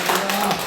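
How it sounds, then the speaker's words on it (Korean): A church congregation claps in thanks after a prayer, a dense, steady wash of applause filling the room at fairly loud level. "하나님께만 감사의 박수 하겠습니다"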